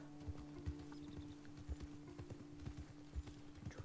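Steady clip-clop of horse hooves in a walking rhythm in Red Dead Redemption 2, close and moderately loud, with a low continuous hum underneath.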